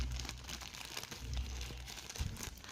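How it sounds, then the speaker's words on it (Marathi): Plastic bag crinkling and rustling as a jewellery order with screws is packed into it, soft and close with intermittent crumples and a small crunch, no talk. "तर आता हे आपण सगळं ना या बॅगमध्ये घालणार आहोत."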